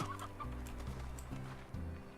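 Chickens cluck in short stuttering bursts in the video game Slime Rancher, a steady run of game clucks heard on their own with no talk.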